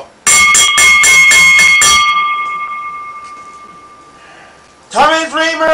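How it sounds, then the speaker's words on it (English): A wrestling ring bell clangs in a rapid burst of about six loud strikes after a pinfall, leaving a ringing tone that fades out before a commentator's voice comes in. "ring the bell"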